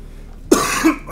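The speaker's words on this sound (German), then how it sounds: "Verzeihung, dass ich die ganze Zeit husten muss." A single sharp, close cough followed by a softer second cough, from someone with a persistent cough while playing a computer game.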